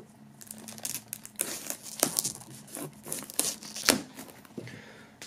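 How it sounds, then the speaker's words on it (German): Plastic shrink wrap crinkles and tears as it is pulled off a black-and-white square music box set, close up, with irregular crackling bursts and no talk. "Wir werden das Ganze mal aus der Folie holen."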